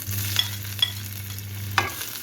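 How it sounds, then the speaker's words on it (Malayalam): Mustard seeds and two dried chillies frying in hot oil in a pan for a Kerala taloorikka curry: a steady low sizzle with a few sharp pops and crackles, close by and alone. "ഒരു ടീസ്പൂൺ കടുക് ഇട്ട് കൊടുക്കുക പിന്നെ അതിലേക്ക് രണ്ട് ഉണക്കമുളകും"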